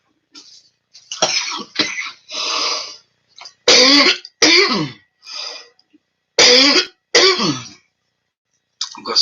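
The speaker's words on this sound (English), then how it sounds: "I'm coughing." A woman coughs and clears her throat in a string of harsh, close bursts separated by short silences, loud and raspy throughout.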